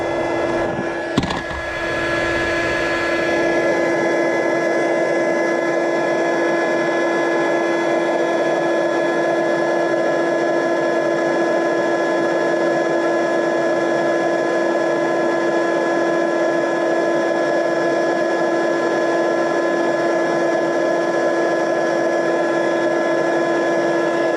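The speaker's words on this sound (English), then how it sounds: "my embossing gun is already heated up" An embossing heat gun blows with a loud, steady whirring hum and constant airy roar after a brief click as it switches on, running continuously close by without pause.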